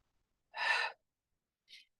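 One big breathy exhale during a strength and balance exercise, close and clear, followed by a shorter, fainter breath after a pause.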